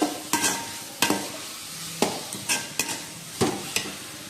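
Ingredients are sautéed with turmeric in a pan for crab kurma gravy, with a spatula scraping and stirring in irregular, close strokes over a soft background sizzle. No voices are heard.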